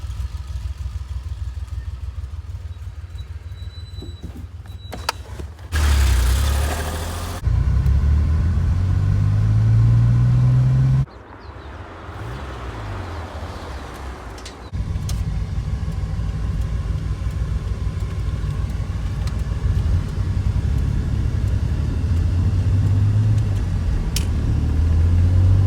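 A 1982 DeLorean drives on the road, its engine rumbling low and steady for nearly half a minute, with shifts in loudness, a couple of abrupt louder stretches and a rising pitch sweep, heard from inside or close by.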